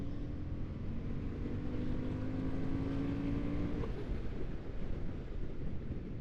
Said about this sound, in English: So fourth gear, shouldn't really do this uphill, but let's just overtake.